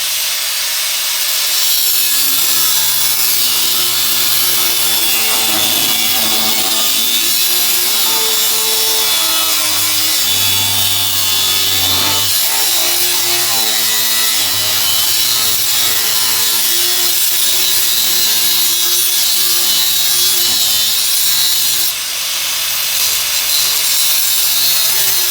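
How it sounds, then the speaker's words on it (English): A saw cutting a metal bolt on a wheelbarrow, a loud continuous rasping grind that holds steady and close throughout with no pauses, no speech. "I'm just going to cut this bolt off just about 2 inches."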